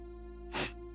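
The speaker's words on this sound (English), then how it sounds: "Little sneeze." A single short, sharp human sneeze cuts through a steady background hum, close to the microphone and brief.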